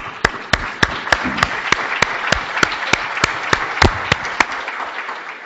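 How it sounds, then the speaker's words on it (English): Applause from an evening lecture audience at a center in an emirate rolls on continuously, with a few sharp, louder nearby claps standing out regularly above the dense crowd clapping. "Well done to you all, and we applaud you all."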